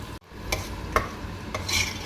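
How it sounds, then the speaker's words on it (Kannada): Ground chili masala and ginger frying in hot oil for a Malnad-style sardine curry, with a steady soft sizzle broken by a few brief stirring scrapes and clinks, close and moderately loud. "ಎಣ್ಣೆ ಕಾದಿದೆ, ಇವಾಗ ನಾವು ಖಾರ ಹಾಕ್ಕೊತಾ ಇದ್ದೀವಿ"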